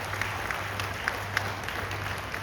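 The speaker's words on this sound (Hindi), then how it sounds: "एक बार जोरदार ताली बजा करके साधुवाद करें।" Crowd applause at a religious gathering, a moderate steady patter of many hands clapping with a few sharper claps, heard from a middle distance.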